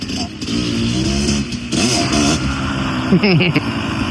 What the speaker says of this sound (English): here goes the power slide